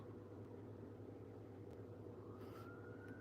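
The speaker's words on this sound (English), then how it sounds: "Hear that siren?" A faint siren wail rises in pitch toward the end, distant, over steady low background hum and rumble.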